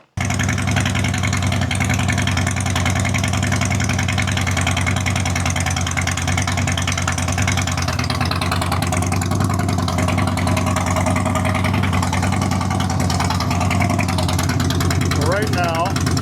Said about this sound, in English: start the bike up and see what decibels we get